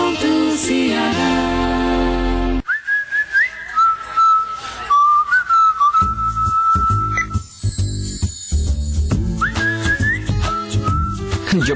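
A person whistles a melodic jingle in a TV advert for accounting software, loud and close, with musical backing and percussive accents beneath the tune.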